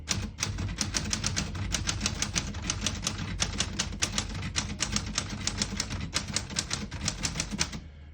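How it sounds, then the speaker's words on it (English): Rapid, crisp keystrokes clatter from a 1938 Corona Standard portable manual typewriter in an uneven rhythm, close up and continuous with no talking. "I'll type a sentence in red on the next line"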